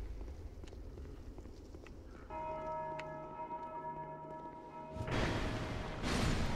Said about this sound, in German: Warum läutet ihr die Glocke?